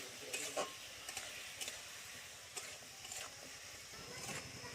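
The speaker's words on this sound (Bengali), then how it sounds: "এটা দিয়ে আমি একটু ভালো করে এর সাথে কষে নিচ্ছি" Ground mustard and cumin paste sautés with fish in a pan, giving a faint, low sizzle broken by repeated scraping stirs at irregular intervals.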